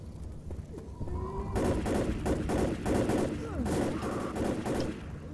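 Player's gun in Left 4 Dead firing rapid bursts of loud, close shots, with a brief pause between two volleys and faint game noise underneath.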